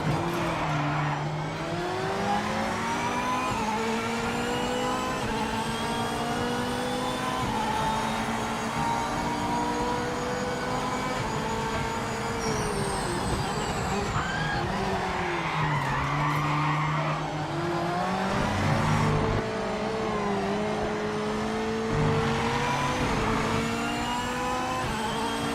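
Race cars in the Project Motor Racing video game skidding and spinning out, engines droning and revving with long tire squeals rising and falling, loud and continuous without talk.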